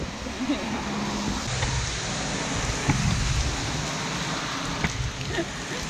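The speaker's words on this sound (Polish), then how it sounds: "Przelotne opady deszczu." A passing rain shower in Cancún, Mexico hisses continuously as a broad wash of noise, with occasional louder drops and faint voices in the background.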